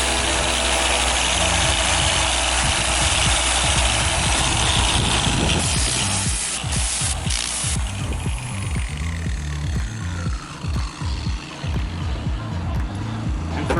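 A detailing polisher spins a microfiber pad with a loud, steady whir, and then a pad conditioning brush is pressed against it, which adds rough scraping and uneven chattering to the motor noise.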